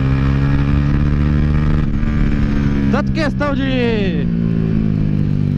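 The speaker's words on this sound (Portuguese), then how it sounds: "quem já viu pessoalmente o escape da G-Escape lembra muito um ronco de uma 2 cilindros" A Dafra Next 250 motorcycle with a Jeskap GP carbon exhaust, a loud, close, steady engine drone that rises and falls through a couple of sharp revs midway, with someone speaking over it.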